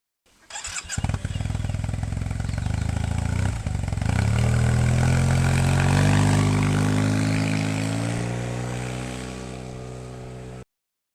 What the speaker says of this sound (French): Un petit aperçu d'accélération en sortie d'agglomération, le 50-90 km/h, assez rapide.